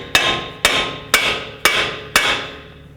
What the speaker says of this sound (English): I can hammer right on it and,